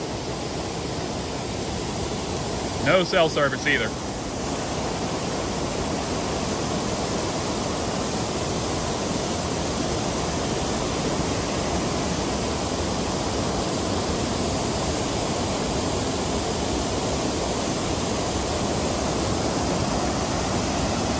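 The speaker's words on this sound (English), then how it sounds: "it's got this little waterfall that I thought would be interesting to look at" Steady, full rushing of a small waterfall and river beside a roadside pull-off in the mountains between Maggie Valley, North Carolina and Tellico Plains, Tennessee, a broad constant wash of water with a brief spoken remark early on.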